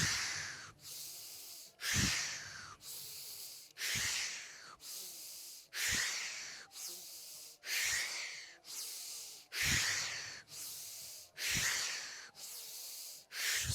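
Deep, loud breaths drawn in and pushed out during a medical qigong exercise, repeating in a steady rhythm of long airy inhales and exhales close to the ear, with no talking.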